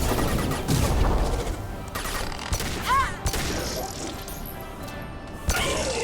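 Rapid gunfire in Mass Effect 2 as shots hit injection tubes, bursts of crackling shots and smashing impacts over a busy combat din, with a voice speaking briefly.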